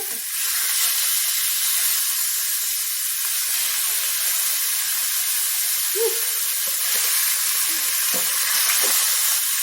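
Tamarind pork cutlets frying in hot oil, a steady loud sizzle and hiss running throughout with a few faint clinks and pops.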